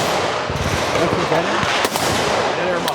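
Gunfire at the Palmetto State Armory Gathering shooting event, a rapid string of loud cracking shots over outdoor noise, with people talking faintly in the background.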